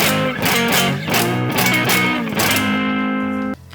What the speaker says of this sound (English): your friend taught you how to play bar chords and they sound like this